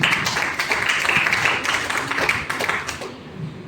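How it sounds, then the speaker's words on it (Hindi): An audience applauds at a motivational seminar, with a short burst of brisk, close clapping that fades out at the end. "जोरदार तालियां होनी चाहिए।"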